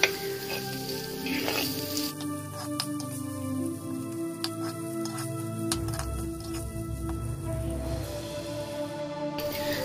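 Onion, ginger and garlic sautéing in a pan for Kottayam-style fish curry, a continuous soft sizzle and frying hiss with scattered crackles and occasional utensil clicks.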